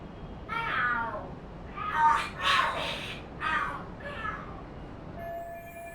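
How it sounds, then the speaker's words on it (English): Cats in the Lost Judgment video game yowl and screech in a fight, several drawn-out wailing cries rising and falling over about six seconds, fairly close and loud with no talk over them. "Are there cats fighting?"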